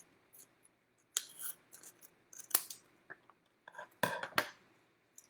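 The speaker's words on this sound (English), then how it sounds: "It's hard to get the scissors in there" Scissors snip through the edges of a small handmade craft racecar, giving several sharp, close cuts separated by short pauses, with faint soft background noise between them.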